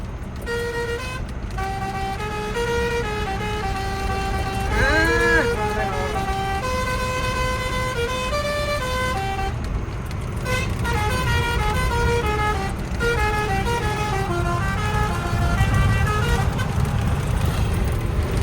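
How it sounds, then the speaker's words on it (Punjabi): A car horn honks in repeated tonal blasts with varying patterns, loud and close, over steady engine and road noise throughout. "ਹਾਰਨ ਮਾਰ ਕੇ ਦਿਖਾ ਦੇ"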